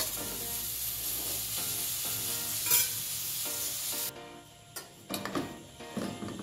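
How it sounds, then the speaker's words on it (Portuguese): Onion, bacon and calabresa sausage fry in a pan with a steady, close sizzle and occasional stirring scrapes; the hiss drops away partway through, leaving sparser crackles and utensil clinks. "Então aqui na panela tem cebola, bacon e a linguiça calabresa. Vou deixar fritar até murchar um pouquinho mais."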